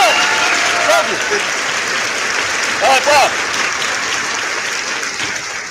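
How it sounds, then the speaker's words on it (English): Loud, dense audience applause at a live sports talk show about the Miami Hurricanes, sustained throughout with a voice speaking over it in short bursts. "Round of applause, man."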